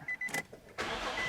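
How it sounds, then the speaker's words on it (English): A Nissan or Infiniti engine is started for a throttle relearn: a few soft clicks and brief whirs, then the engine fires abruptly and runs on as a steady, close rumble. "we're going to start the engine and let it"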